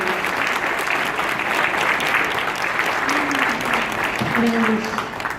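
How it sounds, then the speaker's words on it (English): Steady, dense applause from a large crowd at a charity auction fills the whole stretch, with a voice speaking briefly over it. "I think everyone needs to give these guys a round of applause."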